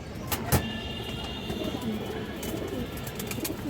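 Pigeons of fancy breeds kept for sale coo in low, soft murmurs against a steady background hum, with a couple of sharp clicks near the start.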